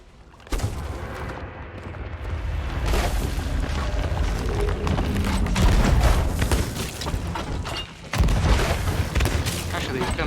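Cannon fire in Sea of Thieves, heavy booms and bursts rolling through a busy battle soundscape, loud and repeated, with players talking over the action.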